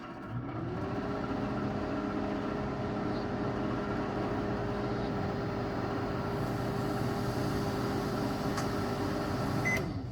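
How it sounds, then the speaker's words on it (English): A steady microwave oven hum while steaming oyster mushrooms, a continuous low drone with faint higher whine, unchanging in level, no voices. "I'm going to put it in the microwave right now."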